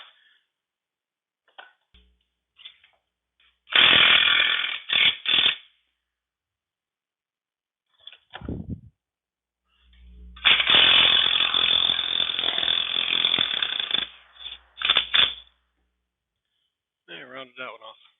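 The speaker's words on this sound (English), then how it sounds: "So I'm going to remove this clamp bolt, which looks like it might actually break." Ratcheting bursts from a hand tool work a clamp bolt loose on an Allis Chalmers B steering gear, two long loud runs of rapid clicks separated by quiet and short clanks, with someone speaking in places.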